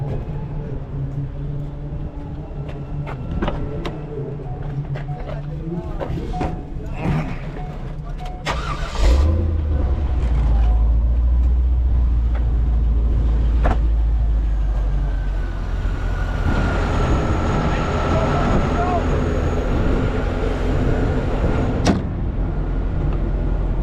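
A door thumps, then a car engine cranks and catches around the middle, settling into a loud, steady rumbling idle that continues close by.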